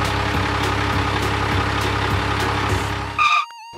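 A toy transporter truck rolls past in a steady mechanical drone that fades out near the end, followed by a short high electronic chirp.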